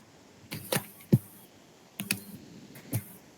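A computer keyboard is tapped in a few sparse, separate clicks, some in quick pairs, against a quiet room with no talking.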